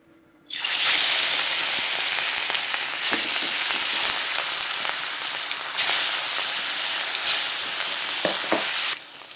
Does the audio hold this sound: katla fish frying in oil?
yes